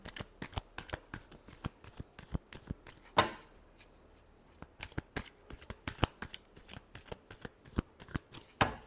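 Tarot cards are shuffled in quick, rapid riffles, a close run of crisp flicks and slaps with one sharper snap partway through and no talk.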